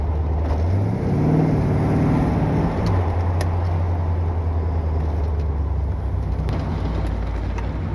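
A 1979 Corvette with a freshly rebuilt engine being broken in, pulling away with a loud, close engine note that rises in pitch, then eases back to a steady drone under road and wind noise.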